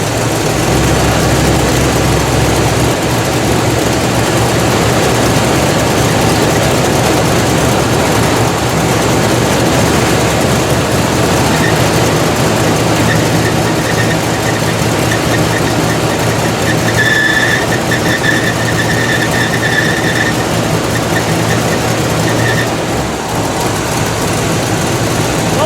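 A Buick's engine rumbles steadily at idle after a restart, loud and close throughout with a constant low drone, a faint higher whine appearing partway through.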